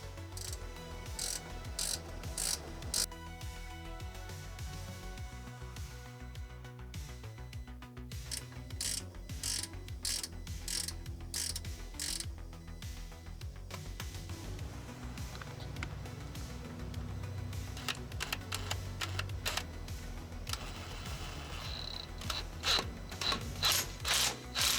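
A wrench works a tie rod castle nut loose during steering removal on a van kit installation, with repeated ratcheting clicks and metallic clinks coming in bursts across the clip, close but fairly quiet.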